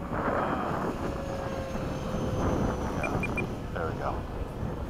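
An FMS 70mm F/A-18 electric ducted-fan model jet carrying missiles and a drop tank whooshes past at a flying field, a rushing fan roar with a brief whine, while people talk over it.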